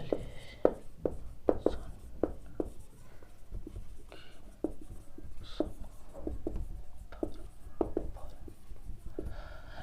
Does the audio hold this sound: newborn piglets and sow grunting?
no